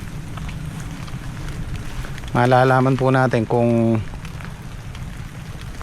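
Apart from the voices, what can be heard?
rain falling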